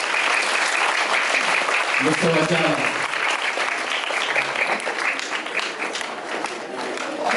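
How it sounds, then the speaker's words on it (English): Applause for the chairman at a Kenya national schools chess championship, a dense steady clapping across the whole stretch with a speaker's voice cutting in over it partway through. "So please give a big applause for Mr."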